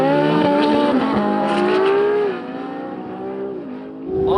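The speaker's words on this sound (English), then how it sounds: "all the 918s I've seen going up the runway have been going really quickly" Porsche 918 and LaFerrari hypercars drag racing down a runway, engines screaming as they rev hard through rising gear pulls with shifts, the loud sustained whine easing slightly as they pull away.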